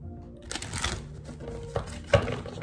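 Tarot cards being shuffled during a spiritual reading, a close papery riffle and crinkle in a few bursts, with a sharper snap near the end.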